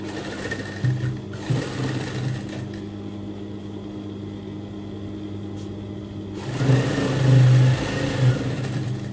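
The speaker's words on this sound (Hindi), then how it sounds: "अब हम इस पर सिलाई लगाएंगे।" A sewing machine stitches fabric for children's dungarees, running in short bursts at first, then falling quiet, then starting a longer, louder stretch of steady whirring stitches close by.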